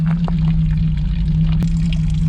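Clean water pouring and trickling out of a Ford Transit Mk2 camper van, a steady splashing flow over a constant low engine hum, close and fairly loud with no voices.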